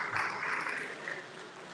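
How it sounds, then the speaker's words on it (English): A dense, steady wash of audience applause fills a symposium hall at a Knights of St. John International Philippines event, holding at an even level for its whole short length with no voices on top. "It's a round of applause for her."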